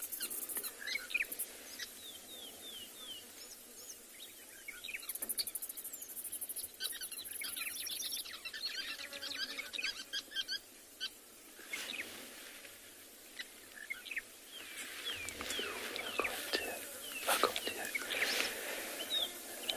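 Young birds call on an evening safari, with repeated thin chirps and tweets scattered over a quiet background, some close and some farther off, mixed with faint insect trilling.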